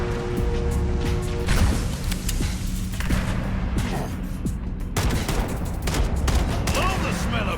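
Gunfire and explosions in the Halo video game: dense, continuous bursts of shots and booms that fill the whole stretch, loud and busy with no break.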